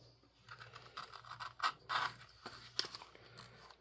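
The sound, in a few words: beveling leather edges with a bevel tool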